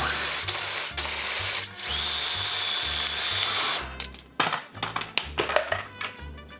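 A food processor pulses green onions and cilantro for restaurant-style salsa in a series of short, loud, whirring bursts with brief gaps, then choppy clatters and taps close by; no voices.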